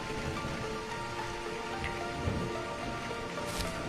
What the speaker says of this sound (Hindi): मनोहर बारिश में ही दौड़ता हुआ दूसरे गांव की ओर बढ़ जाता है